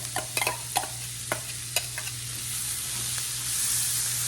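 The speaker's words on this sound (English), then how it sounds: "I always choose to use the stainless steel skillet with the little rivets on the bottom, and it ends up being so loud" Chopped onion begins to sizzle in a stainless steel skillet with riveted bottom, a few sharp stirring clicks at first, then a steady, rising hiss that grows louder toward the end.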